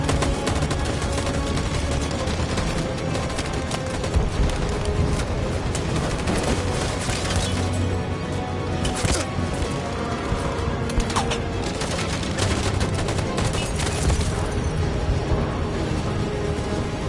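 A volley of gunfire in the Detroit: Become Human video game, loud dense shots crackling continuously for many seconds under a constant roar, with sharper individual bangs standing out.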